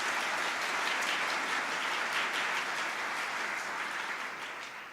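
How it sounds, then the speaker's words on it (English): A hall audience at a city's State of the City address applauds city staff with dense, steady clapping that holds evenly for several seconds before easing slightly at the end, no speech over it. "One more round of applause for them, please."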